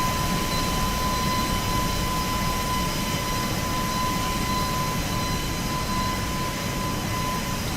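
Steady broadband jet roar of an Airbus A220 cruising in Microsoft Flight Simulator 2024, on an ITA Airways flight from Rome to Palermo, with a constant hum and a thin high tone running through it, unbroken and without talk.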